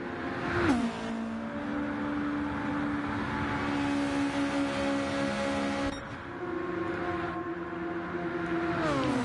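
Race cars lapping in the Blue Moon Bay 200 race, engines held at steady half revs in fifth gear, a loud continuous droning whine with shifting harmonic tones and a brief dip near six seconds, no voices.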